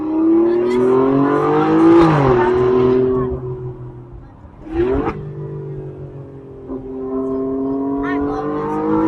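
Alfa Romeo Stelvio Quadrifoglio with a resonator-delete Z-pipe exhaust revs hard and loud twice, with a sharp pop-like burst between the rises and a steady idle drone under excited voices nearby.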